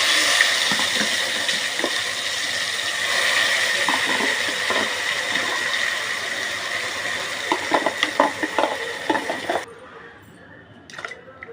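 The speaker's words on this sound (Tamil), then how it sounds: "தண்ணி ஊற்றி மிக்ஸ் பண்ணி ஊற்றிடுங்க." Water is poured into a pot of ground masala with curry leaves and bay leaves and stirred in, giving a close, continuous watery hiss with small clinks and splashes that breaks off near the end.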